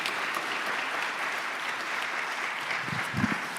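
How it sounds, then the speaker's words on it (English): Sustained audience clapping fills the room after young performers finish at a spring jazz concert, a steady, even wash of applause with no talking. "give them a round of applause again."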